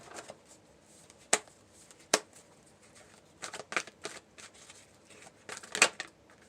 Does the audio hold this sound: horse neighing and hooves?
no